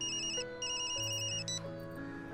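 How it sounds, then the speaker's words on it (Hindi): A telephone ringtone sounds as an incoming call arrives: a repeated electronic melody of bright tones in short bursts over a steady background of sustained notes, fairly quiet and with no voices. "दोपहर का वक्त था जब अस्पताल से डॉक्टर रत्ना का फोन आया"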